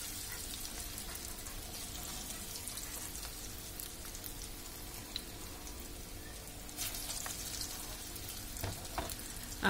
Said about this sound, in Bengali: আমরা সেম একইভাবে এই ডালের বড়াগুলোকে এভাবে করে ভেজে নেব।